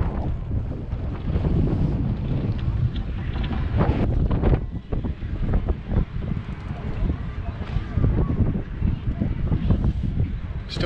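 Strong wind roars and buffets the microphone continuously at Marine Stadium in Miami, a loud low rumble with gusty surges throughout.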